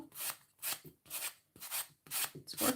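A sanding pad rasps back and forth across the edge of a decoupage piece in five or six even strokes, close and fairly quiet, with short gaps between passes.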